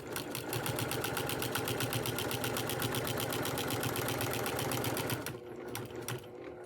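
Sewing machine quilting with a walking foot, a close, steady rapid stitching rhythm running continuously for about five seconds before stopping, followed by a few faint clicks.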